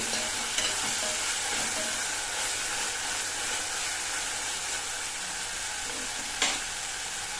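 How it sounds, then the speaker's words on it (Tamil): Mint, coriander and curry leaves sauté in a pan, giving a steady loud sizzle with light stirring scrapes and a sharper clatter near the end, with no voices. "புதினா கொத்தமல்லி கருவேப்பிலை எல்லாத்துலேயும் கொஞ்சம் கொஞ்சம் எடுத்துருக்கேன் அதையும் சேர்த்துக்கலாம் நல்லா வதங்கணும்"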